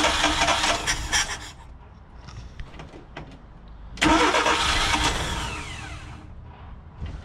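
A carburetor engine is cranked with hard starting: a rasping starter whirs, stutters and fades, then the engine catches at about four seconds and runs loud and rough before settling, all close by with no talking.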